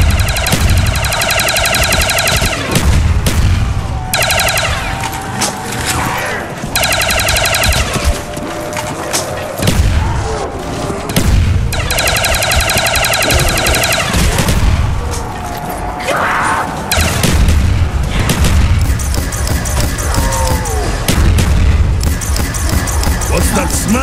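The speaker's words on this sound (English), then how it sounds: "Explosives make things so much easier." Explosions and gunfire in the zombie-survival video game Black Ops Zombies, with loud repeated booms and bursts of rapid fire layered over dense, continuous game noise and music.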